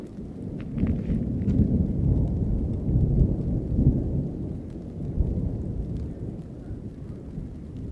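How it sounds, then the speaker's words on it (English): Heavy rain pours steadily while thunder rolls and rumbles through it, loud and continuous with no voices. "just in time when the rain started to increase and lightning started to come real close"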